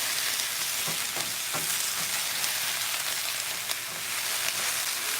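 Vegetables sauté in a pan with a loud, continuous hissing sizzle and a few soft stirring knocks early on, heard close up with no talking.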